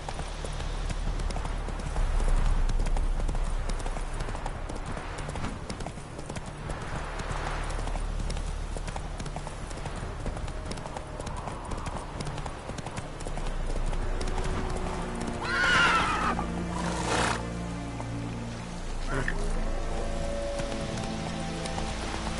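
A horse's hooves clip-clop in a steady galloping rhythm through a video game world, The Witcher 3, with a brief neigh partway through and a soft rain-like ambient bed underneath.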